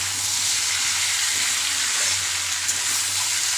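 A home-style vegetable curry with green and ground chilli sizzles steadily in a pan, a close, continuous frying hiss with a low hum underneath and no talk.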